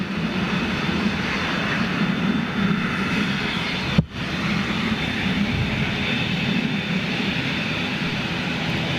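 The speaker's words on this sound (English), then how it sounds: "Okay, we've got the ATR next to go out." An Aer Lingus ATR turboprop departs, its engine drone continuous and moderately loud, with one brief dip partway through.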